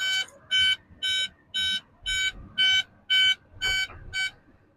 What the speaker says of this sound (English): Sorry about the alarm this morning.